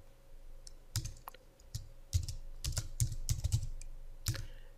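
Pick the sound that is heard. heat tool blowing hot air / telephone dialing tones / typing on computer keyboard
typing on computer keyboard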